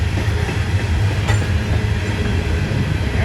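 A Norfolk Southern freight coal train rolls past up close, a loud, steady rumble of heavy wagons and wheels on rails with faint clickety-clack throughout.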